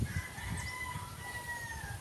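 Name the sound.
chickens clucking and rooster crowing on a farm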